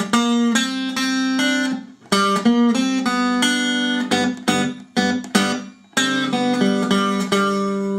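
A solo guitar arpeggiates the IV chord on the bottom three strings in a Delta blues style, with clear repeated picked notes in short phrases and brief gaps, close and unaccompanied.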